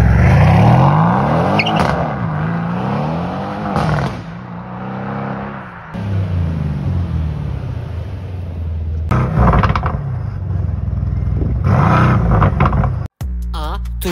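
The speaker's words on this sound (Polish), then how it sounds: "A teraz zobaczymy, jak brzmi wydech w Mercedesie." A loud Mercedes-AMG C63 S engine revs repeatedly, its exhaust note rising and falling in pitch, with a brief cut-off near the end, at a car show.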